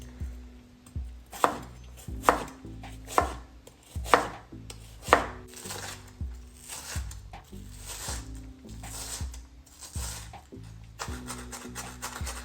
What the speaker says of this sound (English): you're going to only need half an onion, so make sure that it's finely diced.